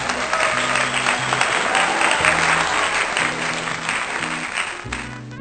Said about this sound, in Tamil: கைத்தட்டுகள் கொடுத்துருவோம்.